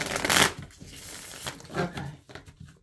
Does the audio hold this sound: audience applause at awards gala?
no